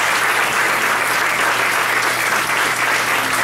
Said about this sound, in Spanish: que le den un aplauso al Señor los resucitados